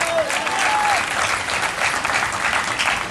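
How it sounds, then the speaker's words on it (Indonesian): A church congregation at a revival service bursts into loud, sustained applause, many hands clapping together in a thick, even roar that holds steady throughout. "Mana tepuk tangan?"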